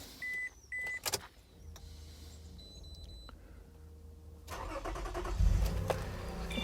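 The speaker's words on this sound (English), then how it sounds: "let's start the car" A 2007 Toyota Alphard's 3.0-litre V6 engine cranks and catches after a few soft electronic chimes and clicks, then settles into a close, rumbling idle.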